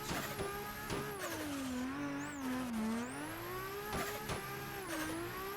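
A drift car rotates slowly through a lap. Its engine drones at a near-constant pitch that sags and rises with throttle, and occasional sharp tire or mechanical bursts cut through. No voices are heard.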